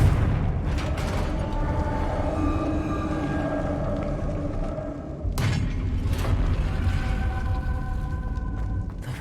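A Confringo blasting spell explodes in Hogwarts Legacy, a loud rumbling boom over a dense, sustained background of game effects, with a sharp burst partway through and no talk over it.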